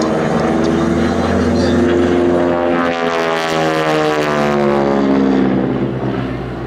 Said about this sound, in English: the propeller tips going supersonic on that. That motor making all that noise.